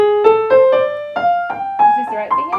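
Piano running a pentatonic scale upward across a couple of octaves, a steady stepwise sequence of clear single notes rising in pitch, played alone at moderate loudness.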